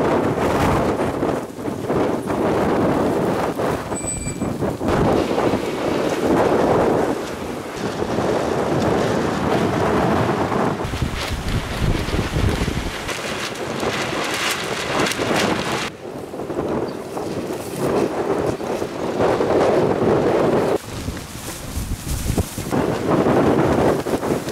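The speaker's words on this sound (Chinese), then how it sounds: "今天我们这儿刮大风" A strong gale of around force seven roars through a village, buffeting the microphone in loud, sustained gusts with brief lulls in between.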